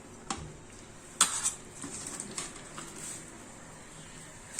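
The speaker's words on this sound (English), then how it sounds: "Now we'll add deep fried potatoes to it." Deep-fried potatoes go into a kadai with a few clinks and scrapes of a spoon against the metal. The sounds come close and fairly quiet, with the sharpest clatter early on and soft stirring noises after it.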